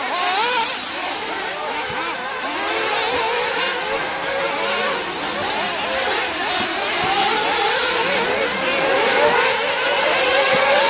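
Race cars at the 2009 Montpellier Grand Prix in France, a quarter-final heat, pass in a continuous dense engine roar with overlapping revving, loud and steady throughout, with no talk.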